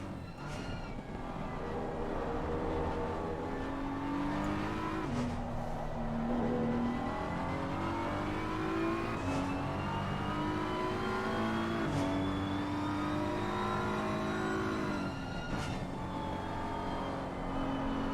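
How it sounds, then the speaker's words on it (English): A BMW race car engine in the racing game Assetto Corsa Competizione revs and shifts through gears at Nürburgring, its pitch repeatedly climbing and dropping, heard fairly quietly and steadily. "you'll get to have a taste of the new BMW sound"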